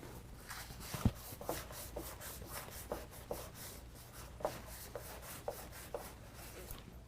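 A cloth soaked in isopropyl alcohol rubs back and forth along a truck's rocker panel, producing a soft, faint, repeated scrubbing rhythm up close with occasional light taps.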